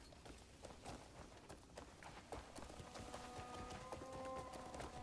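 Horse hooves clip-clop in rhythmic, quick steps in the video game Crimson Desert, fairly faint under a bright festival ambience with scattered chimes and musical tones joining toward the end.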